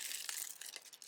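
Paper piece tearing and crinkling as it is peeled off adhesive, a quick, faint, close series of dry crackles lasting about a second.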